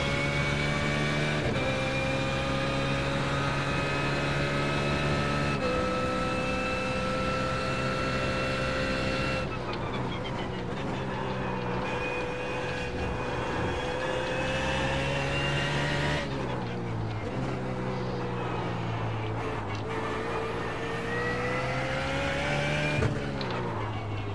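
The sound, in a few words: BMW Z4 GT3 race car engine in video game iRacing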